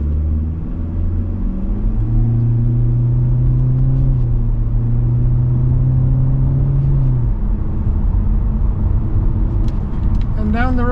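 A 2024 Hyundai Elantra SEL with an IVT accelerating in sport mode, engine drone rising steadily in pitch then dropping as it shifts, heard from inside the cabin.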